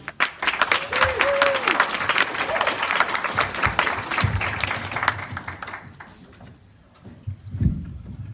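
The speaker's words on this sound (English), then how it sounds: "Let's put our hands together and welcome Joe Nay" A comedy club audience in Broward breaks into loud, dense applause for a comedian taking the stage, the clapping fading after about six seconds into quieter room noise and a few scattered claps.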